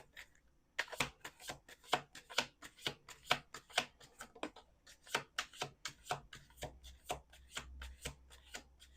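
A deck of playing cards is shuffled again and again in close, crisp bursts of riffling and rubbing, each bursting stroke separated by short pauses, with no talking.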